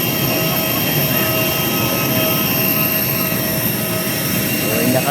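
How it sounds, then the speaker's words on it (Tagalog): An airplane engine runs at an airport, a loud, continuous jet roar and whine that holds steady close by throughout. "Ayun mga lods, ang aeroplano natin."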